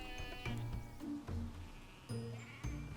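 Several sheep bleat from a flock in repeated wavering calls, fairly close and loud, with short pauses between bleats and no talking over them.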